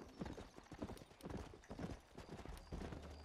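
Horse hooves gallop in a rapid, steady clip-clop rhythm in the Red Dead Redemption video game, fairly close and continuous with faint game ambience underneath.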